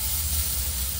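Grated sweet potato sizzling in hot ghee, a steady, close, dense hiss with faint low crackle throughout, no voices.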